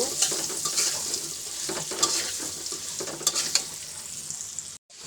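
Spices and chili fry in a pan for a paneer curry, giving a steady close sizzle with occasional stirring scrapes and clinks, continuing to near the end before a brief cutoff.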